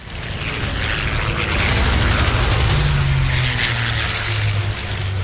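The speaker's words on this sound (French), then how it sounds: "il aperçoit le 190 qui fond sur lui en piqué en crachant un déluge de balles" A WWII Focke-Wulf 190 fighter diving with its machine guns firing, a loud sustained barrage of rapid gunfire layered over a roaring engine, close and continuous throughout.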